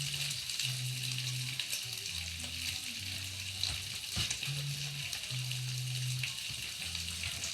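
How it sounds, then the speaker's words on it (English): Bacon frying in a pan, a steady crackling sizzle with spattering pops, accompanied by a faint intermittent tonal hum in the background. "So that means the bacon is cooking."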